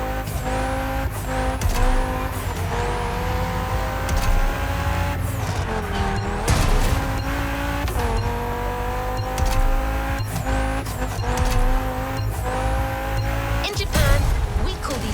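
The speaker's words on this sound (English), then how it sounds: "Drifting is the best way to take sharp turns without losing speed." Tires squeal again and again as a car drifts through the hairpin turns of a mountain pass in Motorfest, its engine revving loud and steady between the long skids.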